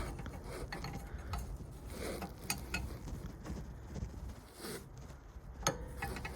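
Ratchet wrench undoing a bolt on the rear brake of a 2009–2010 VW Golf, quiet scattered clicks and metallic rubbing with irregular ratcheting taps, close and without talk.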